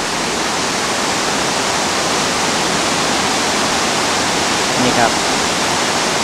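Khlong Lan waterfall drops about 70 m from a cliff into a stream, a loud, steady broadband roar filling the whole stretch, with someone speaking briefly over it near the end.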